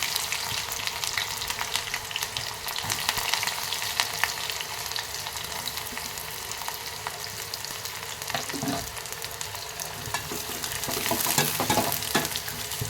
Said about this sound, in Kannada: ಇವು ಸ್ವಲ್ಪ ಎಣ್ಣೆಯಲ್ಲಿ ಫ್ರೈ ಆಗಲಿ ಉಳ್ಳಾಗಡ್ಡೆ ಈಗ ನೋಡಿ ಉಳ್ಳಾಗಡ್ಡಿ ಫ್ರೈ ಆಗು